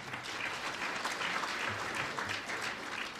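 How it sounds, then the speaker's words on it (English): Audience applause at the 2013 Irish America Hall of Fame ceremony, an even, sustained crowd clapping filling the room at moderate loudness, with no pause across the few seconds. "so please, round of applause."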